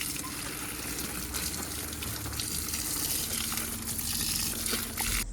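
Steady gushing water poured over vegetable plants such as cowpea and okra in a home garden, a continuous close splashing flow with a faint hum beneath and no talking.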